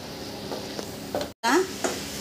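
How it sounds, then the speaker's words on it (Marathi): Mango puran poli filling being stirred and pressed in a hot pan until it gathers into a ball, giving soft scraping strokes and a light sizzle, close and clear with a brief cut midway. "आता याला पूर्ण आपला गोळा तयार होईपर्यंत आपल्याला परतायचं आहे।"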